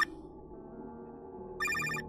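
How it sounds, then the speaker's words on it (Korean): A mobile phone rings with an incoming call: a short electronic chime at the start, a quiet pause, then a louder bright warbling ringtone burst near the end. "아빠에게서 전화가 왔습니다."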